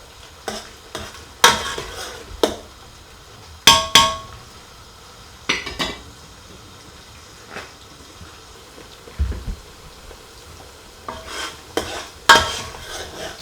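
Onions fry in very hot oil for a lentil and red kidney bean curry, a low sizzle broken by sharp scrapes and clanks of a spoon stirring against the pan, irregular loud strokes with quieter gaps between.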